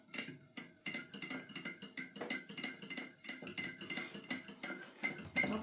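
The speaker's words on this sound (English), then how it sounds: "I'm just going to stir this with a fork till it's dissolved" A fork stirs briskly in a dish for a beef cobbler filling, giving a steady run of quick metallic clinks and scrapes, moderately faint and without talk.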